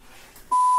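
A single loud steady electronic censor beep begins halfway through and holds to the end, cutting in over a quiet, murky background.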